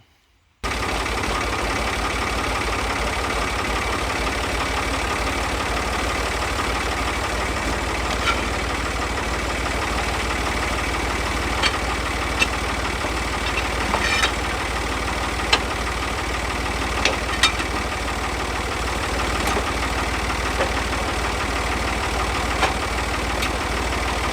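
A 1939 John Deere tractor engine runs at a steady idle with a low, even chugging pulse. The sound holds constant after a brief start and stays unbroken and fairly close, with a few faint clicks and no speech.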